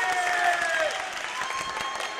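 A basketball team cheers from the bench at a boys' high school game between Palmer and Delview, a steady noisy crowd roar with clapping and shouting, and a whistle sounds briefly near the start.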